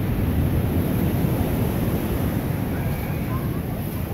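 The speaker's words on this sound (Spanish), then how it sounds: "aquí les comparto el sonido del mar" Continuous roar of sea surf washing onto a pebble beach in Brighton, England, loud and close, mixed with gusty wind buffeting the microphone.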